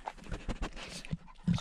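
Dog out hunting for elk antler sheds pants softly in quick, uneven breaths, faint and close, with a few small snorts and no talking.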